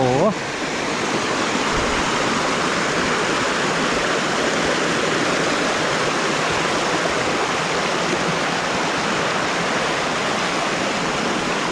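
Mountain stream at a campsite in Mae Kampong, northern Thailand, pouring steadily over rocks into a shallow pool, a loud, continuous close rush of water filling the whole stretch with no letup.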